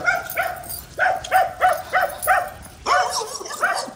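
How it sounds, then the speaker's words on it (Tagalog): A dog barks repeatedly in short, yippy bursts, fairly close, with a brief pause before a few more excited barks. "May aso doon."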